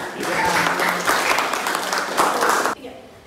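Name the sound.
applause for the group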